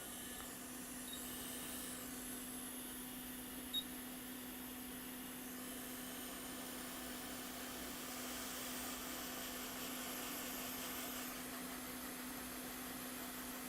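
Hot air blower drying an alcohol-soaked MacBook logic board from a distance, a steady airy roar with a constant hum, even and continuous throughout, with no talk.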